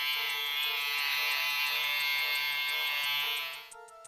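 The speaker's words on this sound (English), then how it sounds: "I think I'll try shaving again." An electric shaver in the Snatcher game hums with a steady, bright, close buzz for several seconds before switching off, leaving a faint tonal hum.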